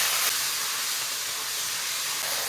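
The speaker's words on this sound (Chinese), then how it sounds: "来一把花椒，来个豆瓣酱， 炒出红油，" Sichuan peppercorns and chili bean paste stir-fried in hot oil as the base for a fatty pork intestine dish give off a loud, steady hiss of sizzling that runs throughout with no talking.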